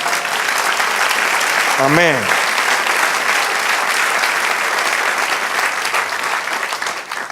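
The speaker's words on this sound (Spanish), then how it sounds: "Denle un aplauso al Señor" A congregation applauds the Lord during a Spanish-language church sermon, dense sustained clapping filling the room at full volume while one voice calls out briefly early on, then the applause carries on alone and tapers slightly.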